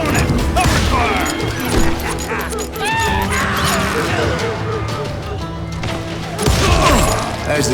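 Covering gunfire in the Call of Juarez: Gunslinger western shooter game, a dense, steady battle din of shots and crashes with music and shouted voices layered throughout, swelling louder near the end.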